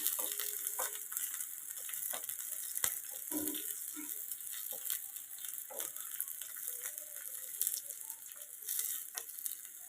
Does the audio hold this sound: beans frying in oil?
yes